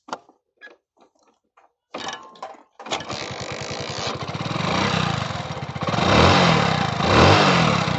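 After a few faint clicks and short cranking attempts, a motorcycle engine starts and runs, its close, steady putter swelling louder as it is revved.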